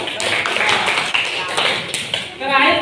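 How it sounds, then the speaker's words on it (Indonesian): A classroom group claps for the first team in a short run of sharp, fairly rhythmic claps, loud and close. Voices can be heard around the clapping. "Beri tepuk tangan untuk kelompok 1."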